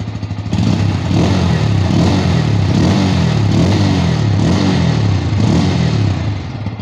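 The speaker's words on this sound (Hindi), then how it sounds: "अभी आप सुन सकते हैं बजाज पल्सर N160 का साउंड।" Bajaj Pulsar N160 motorcycle engine idling and revving steadily, close up and loud, with a continuous throbbing rumble and a few throttle swells throughout, no talking.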